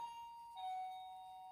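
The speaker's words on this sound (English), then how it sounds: "my doorbell's gone" A two-tone electronic chime rings out, a higher note followed by a lower sustained one, clear and moderately faint.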